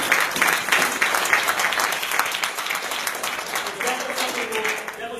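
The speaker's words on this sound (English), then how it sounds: "So give yourselves a round of applause." An audience at a deals meetup applauds itself, a dense, steady wash of many hands clapping at close range for several seconds, fairly loud and even throughout.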